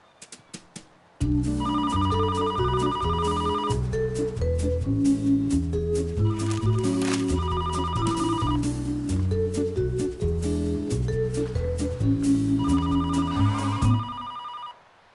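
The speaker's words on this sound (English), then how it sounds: "Can anyone answer the phone?" A telephone ringing over a busy tonal musical bed, a steady electronic ring pattern running continuously for about thirteen seconds, loud and close, with no talk.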